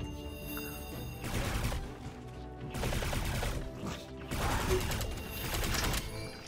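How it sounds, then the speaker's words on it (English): Dense bursts of weapon fire in the PS4 shooter Alienation, coming in several loud rattling volleys with brief lulls between them, layered over a steady game soundtrack. "Take aim and shoot to kill."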